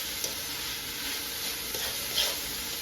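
Garlic and pepper frying in a pan, a steady close sizzle with a soft hiss and a few light stirring clicks throughout, no talking.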